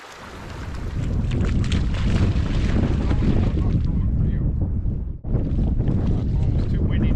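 Strong wind buffets the microphone beside a log-strewn river during a cold fishing outing, a loud continuous roar with gusts that briefly drop out once before surging back.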